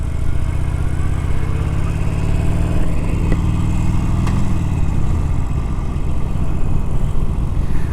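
Harley-Davidson 48 motorcycle riding through Richmond Park, a steady low engine drone held close throughout with a slight pitch shift midway as the bike changes pace.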